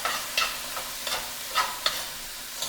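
One large tomato fries in a pan at medium-high heat, with a soft sizzle underneath. A utensil stirs it in several separate scraping strokes, close by and fairly quiet, with no talking.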